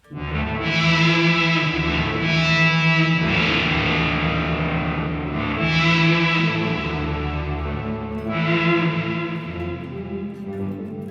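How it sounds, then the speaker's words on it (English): Electric guitar chords run through an EarthQuaker Devices filter pedal as the filter is slowly rolled down. The sustained, effect-heavy tone swells with each strum, loud and continuous, with no talking. "I'm going to start slowly rolling it down just so you can kind of hear the sweep."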